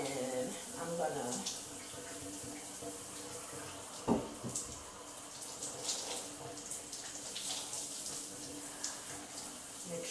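Shower water runs steadily with a hissing spray while a person talks over it, and a brief clatter comes partway through.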